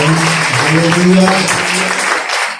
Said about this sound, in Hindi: सभा के लिए जोरदार तालियां बजाएं।